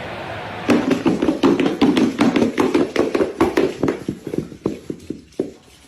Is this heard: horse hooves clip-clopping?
yes